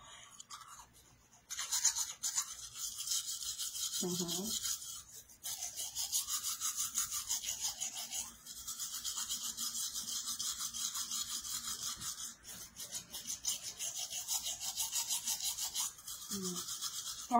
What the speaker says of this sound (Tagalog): mag-toothbrush ako